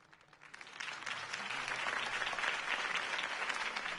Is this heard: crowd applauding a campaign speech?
yes